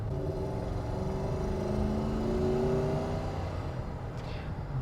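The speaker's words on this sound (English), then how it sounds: "I do hear a little bit more engine noise than I would expect." Steady engine drone and road rumble from a first-generation Toyota Tundra full-size pickup cruising at about 40 mph, a continuous low hum with a faint rising tonal whine, heard from inside the cab with no talking.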